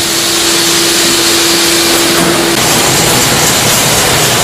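A capsule filling machine runs on a nutrition supplement factory floor, giving a loud, steady broadband mechanical roar with a sustained tonal hum partway through, continuous and without talk.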